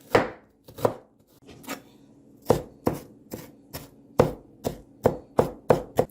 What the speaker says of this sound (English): we're going to make sure that we thinly slice our onion